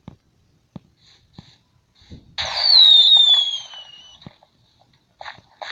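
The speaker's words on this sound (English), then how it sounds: "We got to see some fireworks today. In my house on a video game." Video game fireworks show: a single loud whistling burst with a descending whine lasting about two seconds, framed by faint scattered pops and clicks before and after.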